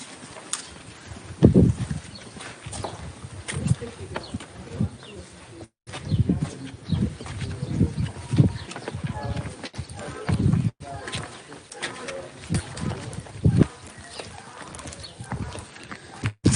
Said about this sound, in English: You guys hear the donkeys?